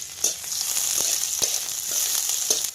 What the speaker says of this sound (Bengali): তেল কিন্তু গরম হয়ে গেছে এবার দিয়ে দেবো দুটো শুকনো লঙ্কা আর একটু পেঁয়াজ রসুন কুচি